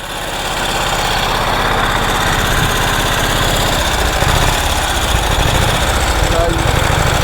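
A 108-year-old Harley-Davidson motorcycle engine runs loud and close, with a steady low throbbing chug that holds throughout.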